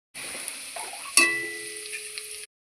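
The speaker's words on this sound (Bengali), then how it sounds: "এবার এখানে দিচ্ছি কেটে রাখা ফুলকপি।" Cut cauliflower fries in hot oil for a winter vegetable khichuri, giving a steady, close sizzling hiss that starts abruptly, with a sharp metallic clink near the middle, then cuts off.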